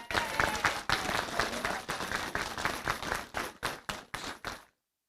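An audience at a mayor's New Year ceremony claps for volunteers, a dense burst of hand claps that thins into scattered individual claps and stops abruptly.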